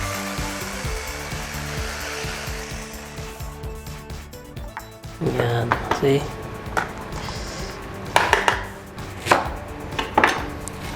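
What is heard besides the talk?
food processor grinding cabbage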